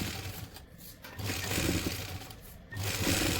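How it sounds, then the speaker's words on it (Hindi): A sewing machine stitching salwar fabric, running in three bursts of steady mechanical whirring separated by short pauses, close and fairly loud with no talk. "ये देखो इस तरह से हम सिलाई लगा लेंगे।"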